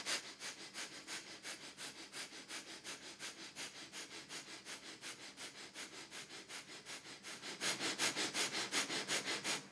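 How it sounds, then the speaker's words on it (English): Rapid, even nasal breaths of Kundalini yoga breath of fire pulse steadily, about three per second, close and clear, growing slightly louder and faster toward the end. "Then take a deep inhalation, relaxing exhalation, and begin the breath of fire"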